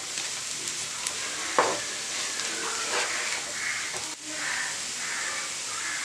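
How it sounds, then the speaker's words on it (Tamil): Fried chicken lollipops being stirred and tossed into a sizzling masala, a continuous close hiss with a sharp spatula scrape and a few clanks against the pan, no voices. "இந்த ஃப்ரை பண்ணி வச்சுருக்கிற எல்லா லாலிபப்பும் இதில் போட்டுடலாம். நல்லா மிக்ஸ் பண்ணி விட்டுக்கலாம்."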